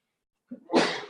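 A single close sneeze bursts out after a brief quiet intake of breath, sharp and loud, then trails off, in an indoor yoga or meditation setting.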